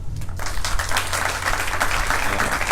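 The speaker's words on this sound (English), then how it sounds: "A round of applause for you." An audience claps for a speaker at the ribbon cutting of a medical center emergency department, the applause starting abruptly after a brief moment and continuing as a steady, fairly loud crowd clapping with a low hum beneath.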